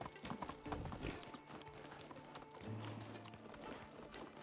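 Horse hooves clip-clopping in Medieval Dynasty, a steady rhythmic trot on a village road, moderately loud with faint ambient game sounds behind and no talk.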